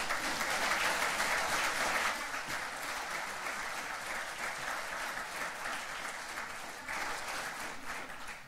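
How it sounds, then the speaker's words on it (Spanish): Audience applause at a sustainable tourism conference session in Aysén, Chile, a broad, continuous clapping from a large room that starts strong, eases slightly, then swells again briefly near the end. "quisiera un aplauso para GSTC"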